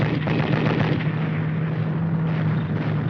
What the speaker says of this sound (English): heavy automatic fire forces the rifleman to take cover